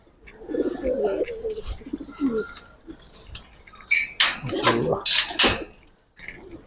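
Giribaz high-flyer pigeons in a loft coo and flutter close by, the calls mixed with scratchy movement and brief clattering noises, louder bursts toward the end.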